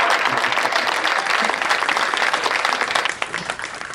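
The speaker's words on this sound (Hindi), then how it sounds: "एक बार तो इनके लिए दोनों हाथ उठा के जोरदार तालियां बजा दीजिएगा।" Loud, dense applause from a large audience at a comedy talk, steady clapping throughout that begins to thin out near the end.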